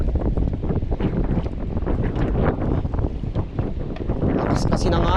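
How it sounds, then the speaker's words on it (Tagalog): At sea aboard a fishing boat during Typhoon Pepito, strong gusting wind roars and buffets the microphone while waves wash and slap nearby. The rumble is loud and constant, with someone talking over it. "Lakas kasi ng hangin, mga alon."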